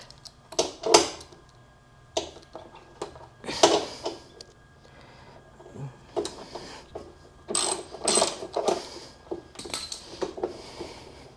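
A 10 mm socket wrench ratchets as it undoes bolts on a Suzuki VL250 rear mudguard, giving bursts of clicking with metallic clanks in between, close up and loud, with no speech.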